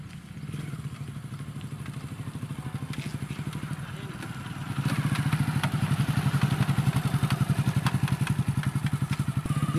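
A motorcycle engine putters at low speed and then revs up as it is ridden, its steady thumping exhaust pulses growing louder midway, with people talking over it.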